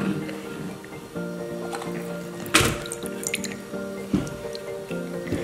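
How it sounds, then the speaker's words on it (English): Hydrogen peroxide poured in small amounts into several tiny bowls, giving soft drips and liquid trickles close by over a steady background hum, with one sharper clatter midway. "you're gonna take peroxide and you're gonna pour a little bit into each one"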